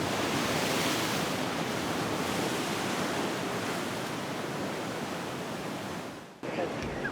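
Ocean surf breaks on a rocky beach at Sassandra where young surfers ride the waves, a dense continuous roar of wash and spray that holds steady before cutting off near the end, with no talking.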